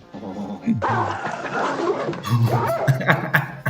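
A dog yips and whimpers excitedly in short, uneven bursts, close and fairly loud, mixed with laughter and lively voices.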